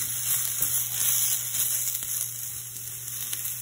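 Meat browning in oil in a pan sizzles with a bright, crackling hiss, steady and close, with occasional small pops and no talking over it.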